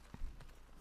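Faint, quick horse hoofbeats clip-clopping in a video game (The Last of Us Part II), against a low background hum, a few light steps in uneven rhythm.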